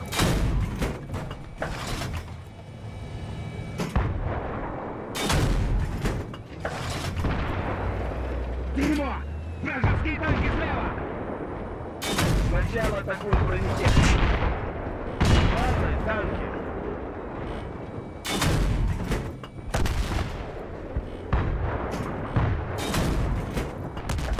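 Repeated heavy tank and artillery gunfire and booming blasts from Battlefield 3 erupt at irregular intervals, with loud explosions and rumbling between shots and occasional speech underneath.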